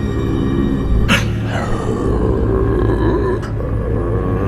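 Deep, rough growling sound effect from a horror story, a low continuous snarl that rumbles loud and close for several seconds with brief harsher bursts, no speech.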